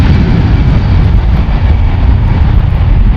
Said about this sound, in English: Delta Airlines Flight 808 going to Detroit, Boeing 757-300